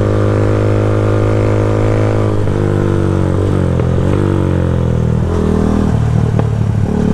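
Motorcycle on a long-distance endurance ride, its engine droning loud and steady, with several gear shifts and slight changes in revs, no talking over it.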